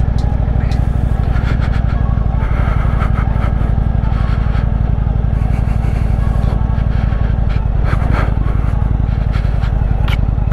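An old Indian motorcycle on Pirelli tyres ridden through loose sand in the outback, its engine droning loud and steady throughout with throttle surges and some scraping from the tyres.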